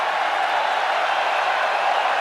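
Indian supporters in the stands at an England v India cricket Test at Lord's give sustained applause and cheering, a dense, even wash of clapping from a large crowd.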